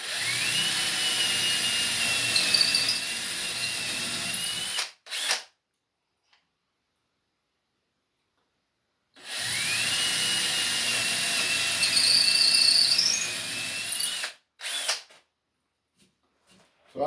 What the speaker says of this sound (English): So I'm just going to drill that many holes.